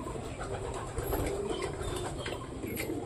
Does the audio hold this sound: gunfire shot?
no